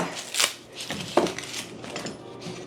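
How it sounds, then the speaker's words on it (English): A dull kitchen knife chops onions on a board with irregular crunchy cuts and clicks, close and fairly loud with no talking. "so I'm going to go ahead and chop up the onions as well"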